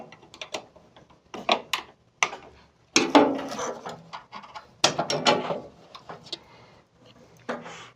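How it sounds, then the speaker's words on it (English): A small flathead screwdriver prying the bleed channel up out of a Coverbind envPrinter gives irregular close clicks, scrapes and plastic snaps, in short bursts separated by brief pauses. "take a small screwdriver, flathead, place on the edge of the bleed channel, and pry up."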